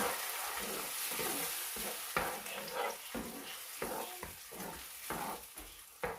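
Chopped tomatoes for a mussel pasta sauce are stirred in a pan, steady sizzling broken by irregular spoon scrapes and clacks, close and moderately loud with no talking.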